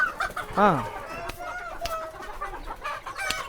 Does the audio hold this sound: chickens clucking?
yes